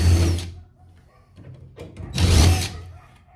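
A power drill backs screws out of the driver's side of a 1971 Holiday Rambler camper body, two loud bursts of whirring separated by a quieter pause of faint handling noise.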